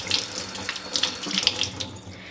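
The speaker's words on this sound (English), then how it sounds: "turn the water on" Tap water runs and splashes steadily into a sink while a beauty blender sponge is rinsed under it, close and moderately loud with uneven spattering bursts.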